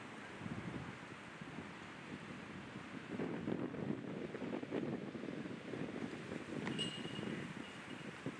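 Wind gusting across an outdoor disc golf course, a steady low roaring rush that buffets the microphone continuously throughout, fairly faint overall with no voices.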